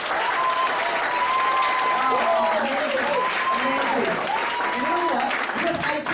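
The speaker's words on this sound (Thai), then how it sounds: "คุณจะเป็นใครนะครับปรบมือให้เขาหน่อย" Steady, loud applause from a crowd at a network marketing event, dense clapping held for several seconds while a voice talks over it in the foreground.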